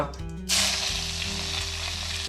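Mustard seeds, cumin and curry leaves hit hot oil in a pan and burst into a loud, close hiss that holds steady as they fry. No one speaks.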